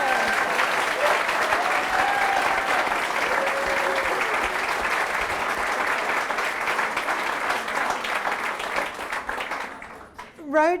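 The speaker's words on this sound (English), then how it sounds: "So if I could have a big round of applause for my team" A large crowd at a 2022 election campaign launch gives a long, sustained round of applause for the campaign team, dense steady clapping with occasional cheers that fades near the end before a speaker resumes.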